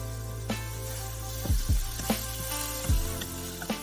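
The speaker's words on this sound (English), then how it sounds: "Turn gently to combine shrimp with the eggs and help the eggs cook evenly for about 30 seconds." Shrimp and egg mixture for egg foo yong cooks in a hot pan, a low, quiet sizzle broken by a few soft spatula scrapes and taps.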